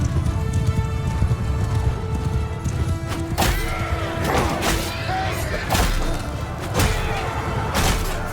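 Rapid clip-clopping hooves of galloping horses mix with a neigh and thudding impacts amid a busy, noisy battle scene in Mount & Blade II: Bannerlord.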